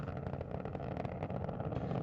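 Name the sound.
Space Shuttle Atlantis main engines during launch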